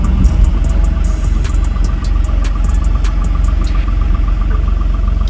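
A pickup truck passes on a forest road at night. A loud, steady engine drone and rhythmic vibrating hum come from close by, heard from within a moving vehicle.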